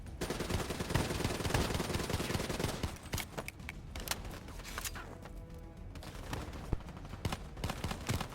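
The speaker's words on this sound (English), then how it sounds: "Oh, now my gun works." Gunfire in Call of Duty: Black Ops 3, dense rapid automatic bursts and scattered shots with game effects, loud and continuous at first, then sparser sharp reports, no talk.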